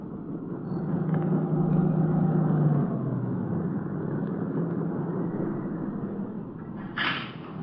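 A car swings off a dirt road and pulls to a stop near a shack, its engine rumbling low and steady, then idling down and fading, with a brief higher noise near the end.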